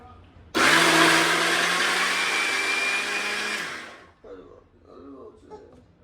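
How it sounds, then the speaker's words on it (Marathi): A mixer grinder whirs loudly for about three seconds with a steady high-pitched motor whine, then stops, followed by faint voices talking. "आता मिक्सर लागणार आहे. मिक्सर हो आजी लावतो मिक्सर."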